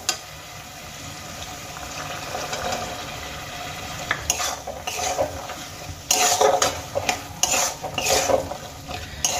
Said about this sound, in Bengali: মশলার সঙ্গে মটরশুঁটিগুলো আমি কিছুক্ষণ কষিয়ে নেব।